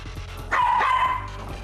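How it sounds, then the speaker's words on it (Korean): A pet dog at home lets out a single sharp, loud bark-yelp that drops into a brief whine, standing out clearly above a quiet indoor room. "짖는 거 2번."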